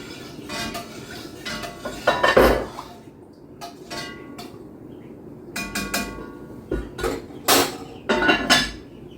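Milk for homemade yogurt is stirred with a wooden or metal spoon in a pot, giving irregular close clinks and scrapes against the pot in clusters, with quieter gaps between strokes.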